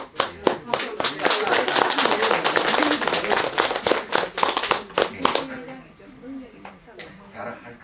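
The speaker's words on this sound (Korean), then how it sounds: "박수 한번 쳐드려야 되겠네요." An audience at a Buddhist meditation center lecture claps their hands in a dense burst of applause lasting about five seconds, then thinning out to a few scattered claps.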